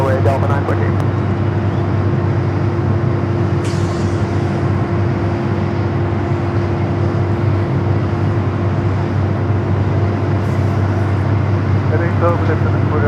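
A Delta Boeing 757 takes off from runway 24 left at Los Angeles International Airport, a loud, steady roar of jet engines that holds without pause across the whole stretch.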